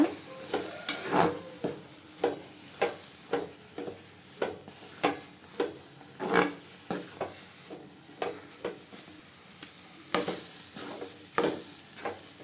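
A spoon stirs wheat rava kichadi with cashews and coriander leaves in a pan, making repeated scraping strokes in a steady rhythm, close and clear over a faint sizzle.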